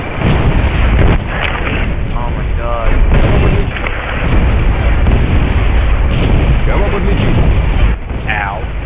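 Grenade explosions in the tactical shooter game Squad: repeated loud booms and blasts thud through dense battlefield noise, with players talking over radio throughout.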